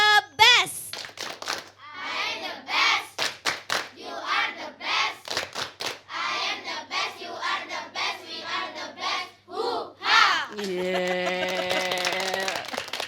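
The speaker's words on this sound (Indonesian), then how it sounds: "kita ajak yang di studio untuk tepuk the best" Children in a studio perform the 'tepuk the best' clapping routine, sharp rhythmic hand claps in a patterned sequence alongside lively young voices chanting and speaking, ending with a bright electronic jingle.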